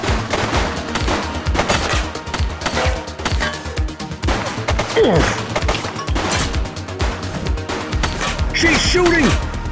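A suspect firing a gun in The Precinct police game, bursts of close shots among clattering mechanical action noise, with voices speaking over it.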